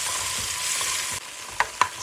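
Tomato paste fries in a hot pan with oil and peppers, giving a steady close sizzle with stirring scrapes and two brief louder clinks near the end.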